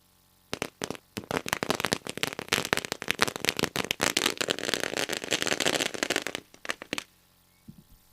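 Firecrackers burst in a rapid, dense string of sharp cracks and pops, loud and continuous for about six seconds before tapering off, set off as a welcome at a local cricket tournament match.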